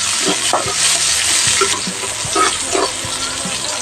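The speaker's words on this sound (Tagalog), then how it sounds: "Ayan po, magisa na po tayo. Unahin na po natin yung sibuyas." Onion sautéing in a pan for ginisang monggo, a loud hissing sizzle with intermittent scraping stirs and light utensil knocks, close and continuous without any voices.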